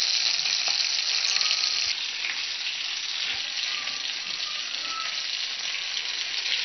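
Hot tadka of fried spices poured into masoor dal, a loud continuous sizzle that bursts sharply at first and then settles into steady crackling frying, with no voices.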